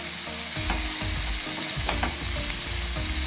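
Chopped tomatoes frying with onions and cooking down into a paste for a bun filling, a loud, dense sizzle close up with repeated scraping and clacking of stirring, no talk.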